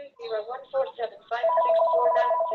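Fax machine ringing during a keynote talk: a repeated electronic warbling tone in bursts, loud and close, ending in a sustained ring.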